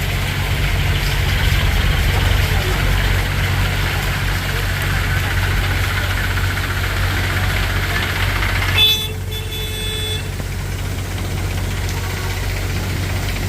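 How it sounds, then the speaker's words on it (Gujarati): A tractor engine drives through a flooded road under a bridge during heavy rain in Navsari, a steady low rumble throughout with a faint metallic rattle near the end. "જો હવે આ ટ્રેક્ટર જાય છે"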